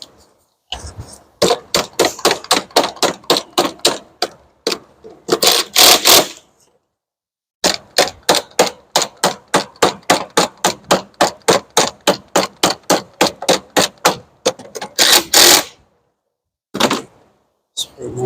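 Battery hold-down bracket on an Acura MDX being tightened, heard as long runs of rapid, evenly spaced ratchet clicks in several bursts separated by brief pauses, close and fairly loud.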